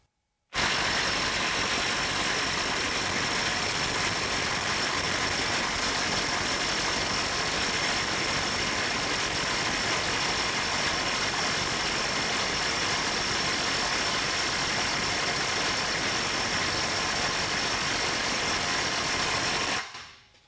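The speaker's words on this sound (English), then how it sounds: "the Durofix half inch at 550 foot-pounds" A Durofix half-inch cordless impact wrench runs on a large fastener at its 550 foot-pound setting, a loud, steady continuous hammering whir held for about nineteen seconds before stopping abruptly.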